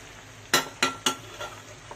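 Tomato stir-frying in a pan for a fish curry: three sharp spatula clinks and scrapes in quick succession over a faint low sizzle, followed by softer stirring strokes.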